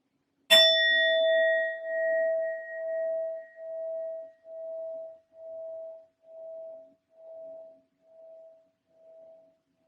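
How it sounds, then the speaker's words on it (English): A metal sound bowl is struck once and rings with a clear, sustained tone that pulses slowly and fades gradually over about nine seconds, with no talk. "I will be using my sound bowl to clear and set the energy as always."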